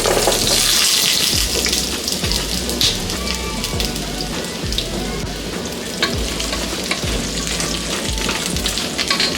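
Small pieces of ridge gourd fry in hot oil, a loud, dense crackling sizzle with occasional stirring scrapes, continuous throughout with no voices.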